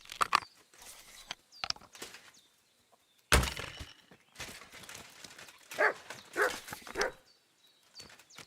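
Mutt the dog barking in Kingdom Come Deliverance 2, several sharp, loud barks and yelps in quick irregular bursts with short gaps, alongside cracking and thudding sounds.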